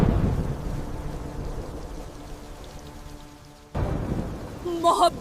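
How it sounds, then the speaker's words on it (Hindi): Rain patters continuously with a low rumble of thunder at the start; after a brief break, the rain resumes alongside a voice. "बारिश की रात।"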